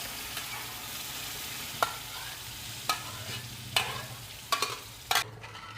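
Mashed vegetables sautéing in tempering for pav bhaji, a soft low sizzle broken by several distinct spatula scrapes and taps against the pan.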